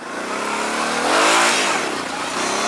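A quad ATV's engine revs hard and close as it wheelies up a hill, the pitch rising and swelling to a peak mid-way before easing back slightly.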